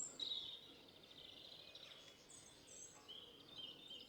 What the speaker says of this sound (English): Listen to the bird life around here.